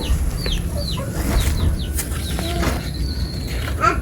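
Chickens cluck and chirp in short bursts, with a rooster-like call and wing flapping over steady low background rumble.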